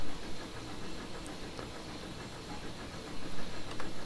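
A PRR H10 2-8-0 Consolidation steam locomotive in Train Simulator Classic hisses steadily under a low engine rumble, with a couple of brief sharper bursts near the end and no voices.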